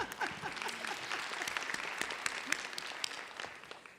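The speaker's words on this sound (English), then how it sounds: "Let's give them a round of applause." An audience at a health talk gives a round of applause with steady, dense clapping throughout, moderately loud and sustained, with faint voices mixed in.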